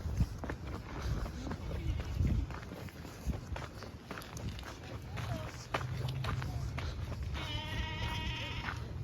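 A goat bleats a few times at a zoo exhibit amid rustling, footsteps and outdoor noise, with people talking nearby.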